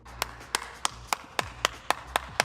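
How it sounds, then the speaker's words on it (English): A single person clapping a short round of applause, about nine crisp, evenly spaced claps in quick succession, close and clear with no voices. "I just want to take a moment here to give Sammi a round of applause"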